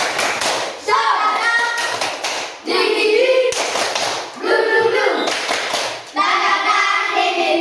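Many hands clap together in a fast, loud, patterned rhythm in bursts during a group clapping game, with brief pauses between phrases, close by in a room.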